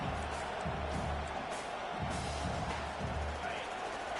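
A college football stadium crowd during Michigan's game roars steadily in support of the defense on a third down, a dense, sustained wash of cheering and noise with no pauses and no clear voices standing out.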